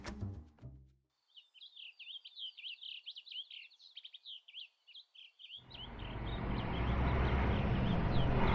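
Small birds chirp in a quick, busy run of high tweets from about one second to five and a half seconds, fairly close and clear, before a loud broad rumble swells in and buries them.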